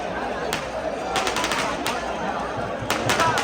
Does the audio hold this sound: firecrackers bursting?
yes